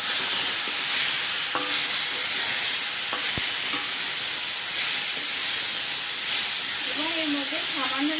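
Poppy seed and chilli paste frying in a pan as it is stirred in, a steady close sizzle and hiss with occasional spoon clicks and a faint voice near the end.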